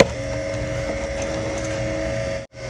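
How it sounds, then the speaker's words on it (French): A car battery repair charger runs with its cooling fan, giving a steady electrical hum and whirring drone that cuts out briefly near the end. "Il y a un ventilateur pour éviter qu'il chauffe."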